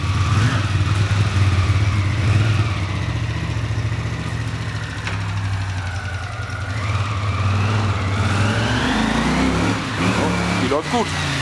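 A Honda CX 500 Scrambler motorcycle engine runs steadily at close range during a test lap around a yard, a constant low throbbing drone. Some nearby voices are mixed in.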